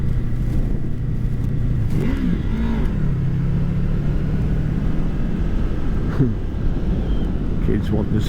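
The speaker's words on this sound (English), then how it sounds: "Kids want us to rev the bike." A Honda VFR800 motorcycle engine runs with a steady low rumble and brief rising revs, close by and continuous under people talking.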